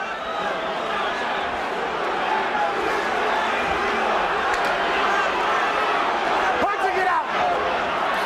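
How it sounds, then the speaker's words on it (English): Enormous crowd at a boxing match at the Hilton in Las Vegas, a dense steady roar of many voices heard throughout, with a commentator talking over it. "An enormous crowd here at the Hilton in Las Vegas."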